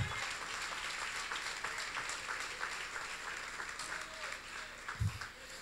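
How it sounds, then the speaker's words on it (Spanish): Congregation applause at a Wednesday evening church service in Barquisimeto, Venezuela, a steady wash of clapping for the full stretch with a brief low thump near the end. "un aplauso al Señor"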